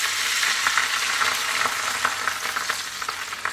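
Boiling-hot frying oil poured over chopped chili in a container gives a loud, steady sizzle and crackle with small popping bursts throughout, no voices.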